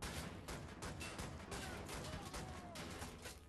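Rapid, dense gunfire from the Nazi-fighting shooter Wolfenstein: The New Order, with overlapping loud shots and sharp impacts in a continuous volley that lasts the whole stretch and never lets up.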